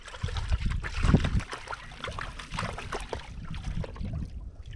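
Water trickles and sloshes out of a Gold Hog flow pan tilted at an angle during gold panning, soft close splashes and dribbles in uneven bursts.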